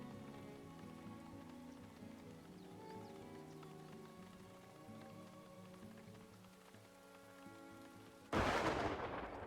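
Rain and a thunderstorm in the Farthest Frontier village-building game: soft musical tones play for most of the stretch, then a sudden loud crash of thunder with rushing rain breaks in near the end.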